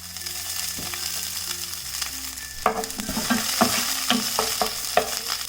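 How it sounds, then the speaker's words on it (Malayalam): Mustard seeds, curry leaves and dried chillies fry in hot oil with a close, steady sizzle that breaks into scattered crackling pops in the second half. "ഓയിൽ ചൂടാകുമ്പോഴേക്കും ഞാൻ ഇതിലേക്കും കുറച്ച് കടുകും കറിവേപ്പിലയും വറ്റൽമുളകും കൂടി ഇട്ട് കൊടുക്കണം"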